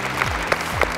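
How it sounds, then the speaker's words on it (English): An audience claps for an NBA player arriving with the Golden State Warriors, a short, even burst of applause with a few sharper claps standing out. "Let's clap it up right now for Jonas Jerebko."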